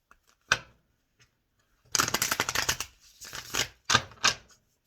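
A single card tap, then a crisp riffle shuffle of tarot cards, followed by a few softer shuffling bursts and taps close by.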